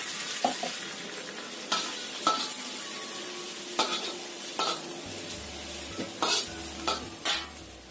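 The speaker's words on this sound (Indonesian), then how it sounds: "Setelah dagingnya ini kira-kira matang, tambahkan 50 ml air." Chunks of meat cook in a pan for an oil-free eggplant dish, with soft sizzling under repeated sharp scrapes and knocks of a utensil stirring against the pan, fairly close.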